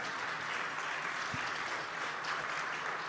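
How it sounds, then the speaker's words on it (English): Applause from a conference audience for three panelists at a business panel, a steady, dense wash of clapping that holds evenly throughout without any voices. "please big applause for the three panelists here"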